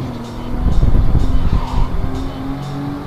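Cars race in the video game Midnight Club 2, a loud, close engine roar with skidding and tire squeals running throughout.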